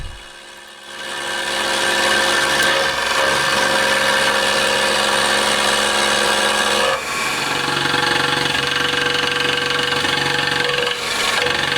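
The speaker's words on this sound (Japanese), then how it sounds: "試しに切り込みを増やして横刃でも削ってみます。" A milling machine cuts metal with the side edge of a roughing end mill during engine-part machining, producing a loud, sustained grinding whine with tonal hum that persists after a brief quieter start.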